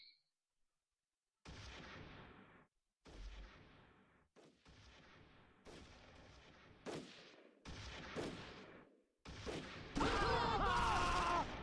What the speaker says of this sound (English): And the tank is shooting my half team.